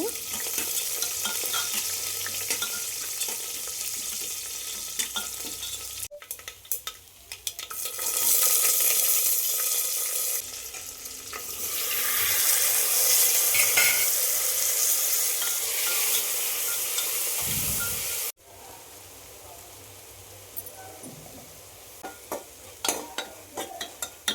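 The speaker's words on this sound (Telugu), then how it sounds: "దాంట్లో కొద్దిగా ఆయిల్ అది వేసుకొని తాలింపులు కూడా ఆవాలు జీలకర్ర ఎండుమిర్చి కూడా వేసేసుకున్నాను" Mustard seeds, cumin and dried chillies sizzle in hot oil in a pressure cooker, a steady broadband fry with stirring scrapes, swelling louder midway and cutting off briefly twice; no one speaks.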